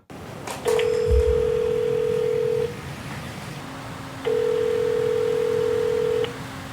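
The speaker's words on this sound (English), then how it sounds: "The phone continues to ring at the Super 8 Hotel in Rotterdam." Two long electronic telephone ring tones separated by a pause, steady and clear against a quiet background hiss.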